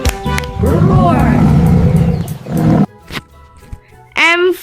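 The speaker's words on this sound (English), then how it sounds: "L for lion." A loud lion roar with a rumbling, growling body in a children's alphabet learning piece. It is bright and upfront, mixed with a child-friendly voice and music around it.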